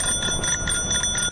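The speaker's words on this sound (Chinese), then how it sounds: "民众骑脚踏车看不过去，狂按铃铛" A bicycle bell is rung again and again in quick bursts, close and bright, on a Fengshan District street where a car is parked illegally and blocking traffic behind it.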